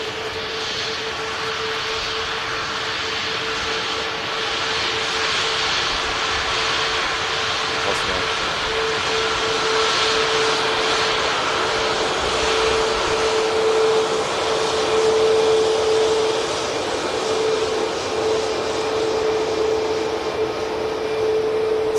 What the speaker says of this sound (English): Really happy we managed to get live for that royal departure from Manchester Airport.